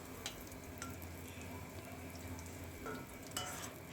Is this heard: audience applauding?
no